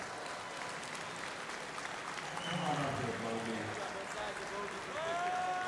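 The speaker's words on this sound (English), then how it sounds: "Give them a big round of applause." Crowd applause at the Barrett-Jackson Scottsdale auction awards for a winning 1961 Volvo PV544, fairly faint clapping and cheering with voices mixed in, swelling toward the end.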